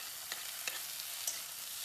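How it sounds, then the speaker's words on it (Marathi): Mustard seeds frying in hot oil, a faint steady hiss with a few soft pops and crackles scattered through it. "तेल चांगलं गरम झालं की त्यात थोडंसं मोहरी टाकून घ्यायची."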